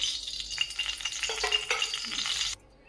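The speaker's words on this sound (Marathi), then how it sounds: "मी आता आपलं 2 पळी तेल टाकेन" Two ladles of cooking oil go into a hot pan for Maharashtrian dal batata, setting off a bright crackling sizzle with light rattling that cuts off abruptly, leaving quiet.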